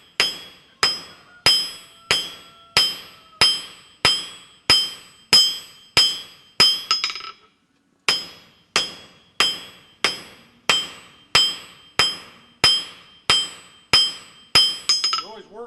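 A blacksmith hammers a steel taper on an anvil with sharp, ringing metallic strikes in a steady rhythm, about a dozen blows, a short pause, then another run of evenly spaced, loud, close hits.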